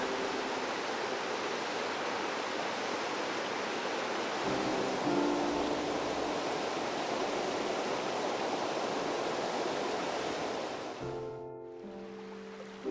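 Water pouring over a series of river ledges at Cedar Falls on a Wisconsin river, a dense, steady rushing roar heard close and loud, with a faint tonal hum near the end as it eases slightly.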